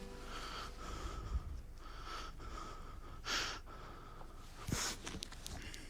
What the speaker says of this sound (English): You can hear like the breathing